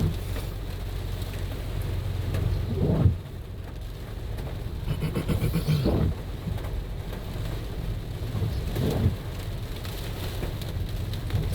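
Rain falls steadily on an evening street in Vientiane while traffic moves past, with a continuous wash of drops, low rumbling, and a few louder swells that come and go.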